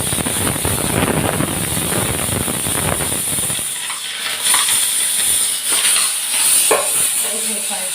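Ridge gourd and other vegetables sauté in a wide pan for peerkangai kootu, a dense frying hiss with stirring that drops away midway, leaving quieter clinks and faint sizzle.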